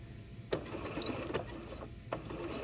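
Sewing machine stitching a zig zag gathering seam at reduced speed, a soft steady mechanical whir with faint repeated ticks and small bumps, heard close and quiet.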